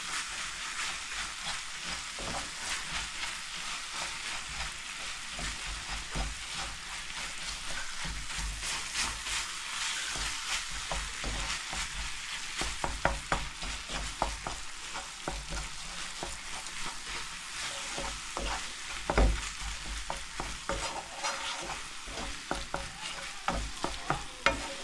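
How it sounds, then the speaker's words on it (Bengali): Powdered milk is stirred quickly into a mixture in a hot pan, a continuous sizzling hiss with fast rhythmic scraping strokes that grow busier toward the end, close and steady. "আর এখন আমি এই যে পাউডার মিল্কগুলো এর সঙ্গে মিক্স করে নিচ্ছি।"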